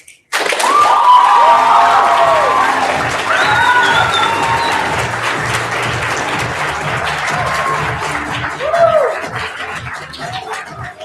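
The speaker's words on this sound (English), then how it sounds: "Keep those applause going for the final poet and all the poets" An audience at a youth poetry slam bout bursts into loud, sustained applause for the final poet, with scattered cheers and whoops that hold steady for about ten seconds.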